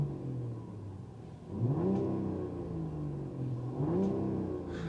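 Mercedes-Benz CLE coupe with a six-cylinder engine idling, then revved twice in rising sweeps that fall back to a smooth idle, heard close with no talking.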